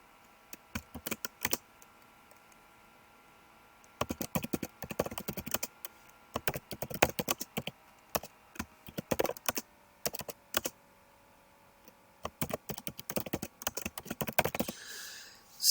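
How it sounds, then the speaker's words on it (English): Quick bursts of clicky typing on a computer keyboard, close and fairly quiet, with short pauses between runs of keystrokes. "note that when I'm typing up my title"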